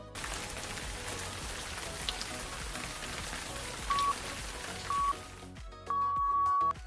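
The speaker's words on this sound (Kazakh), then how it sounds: "Нөсер жаңбырдың дыбысы." A heavy downpour of rain hisses in a dense, unbroken roar of drops striking surfaces, loud and steady, cutting out abruptly near the end to short tonal electronic beeps; no voices.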